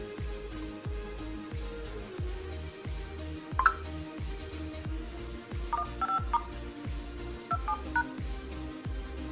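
Phone keypad tones sound as a payment code is entered on a mobile for a Move purchase, a few short clustered beeps over a steady, rhythmic pulsing background hum.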